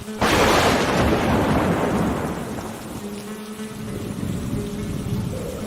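A loud crack of thunder bursts out and rolls away slowly, with steady rain hissing underneath as the rumble fades.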